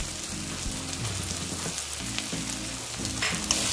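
Spices sizzle and fry in a pan for an egg and potato curry, a steady close crackle with low background tones and no talking.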